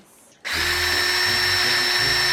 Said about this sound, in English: It's the drill. Can't go any faster.